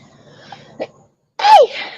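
A single sharp sneeze bursts out loudly and close by, coming after a brief quieter stretch with a small throat sound.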